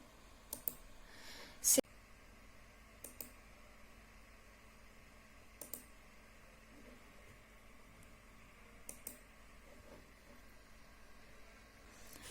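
Mouse clicks on a computer during a PowerPoint 2010 lesson, about half a dozen sharp, separate clicks spaced a few seconds apart over a low steady hiss, with one louder clatter near the start.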